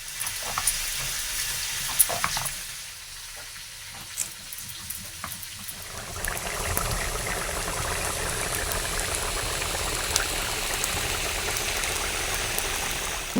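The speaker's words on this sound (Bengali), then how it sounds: "আর এখন এই যে উচ্ছে আলুটা ভাজা বসিয়েছি" Bitter gourd and potato frying in a pan, a soft sizzle at first that swells into a loud, continuous crackling fry with light stirring scrapes, no talking.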